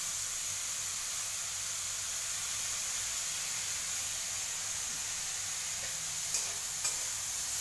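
Bitter gourd sabzi fries in a pan on low heat, giving a steady, soft sizzle and hiss, with a couple of faint scrapes from stirring near the end and no voices.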